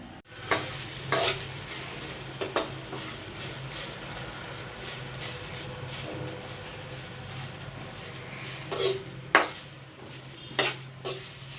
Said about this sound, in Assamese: এতিয়া মই তিলখিনি ভাজি ল'ম